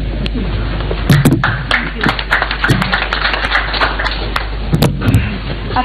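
An audience claps and applauds at a televised public session, a dense patter of hands with some louder thumps, steady for several seconds over a low hum.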